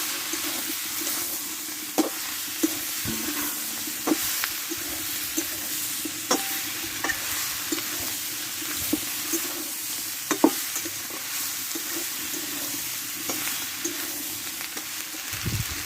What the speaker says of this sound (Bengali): কাঁচা লঙ্কা দিয়ে একসঙ্গে ভালোভাবে কষে নেব